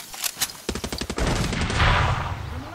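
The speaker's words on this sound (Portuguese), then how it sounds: "Rapaz, atira de tudo que é lado!" Far Cry 6 gunfire comes in loud, rapid bursts of shots that rattle close by, then trail into a roaring wash of noise.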